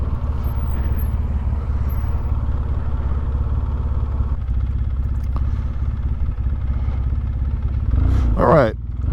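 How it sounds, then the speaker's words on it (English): Engine of a Polaris Sportsman 700 ATV rumbling steadily under engine braking, a continuous low mechanical drone with clatter, ending in a short rising whine; someone talks over it. "The engine braking on Billy is quite aggressive, I must say."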